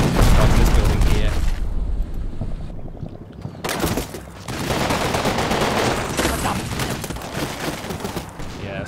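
Assault rifle fire crackles through a street battle in the Combat Mission Red Thunder wargame, dense bursts and distant booms rolling on with a brief lull midway.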